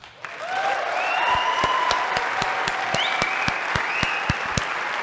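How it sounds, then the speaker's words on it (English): Many hands clap in a sustained round of applause, dense and even, with a few sharp louder claps standing out near the front and faint voices underneath. "We gonna give you a round of applause for your nice little speech."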